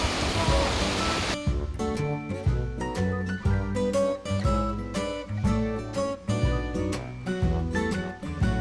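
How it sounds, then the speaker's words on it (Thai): A brief burst of rushing, roaring water from Klong Plu Waterfall on Koh Chang at the start, cut off abruptly as music takes over for the rest. "น้ำตกกรองปูนะครับ สวย"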